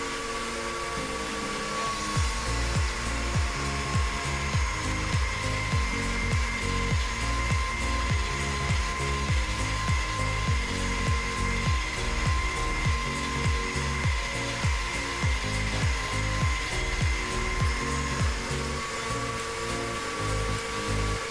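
A kitchen machine kneads ravioli dough at level 5, giving a steady motor whine with a rhythmic, pulsing thump that repeats throughout, close and alone.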